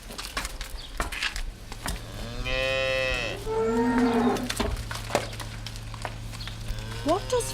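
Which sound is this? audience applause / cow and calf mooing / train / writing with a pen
cow and calf mooing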